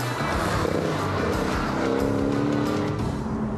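A new Porsche Boxster S with a four-cylinder engine drives along a country road, its engine a steady, loud, continuous drone with rising tonal harmonics as it accelerates, heard close with no talking.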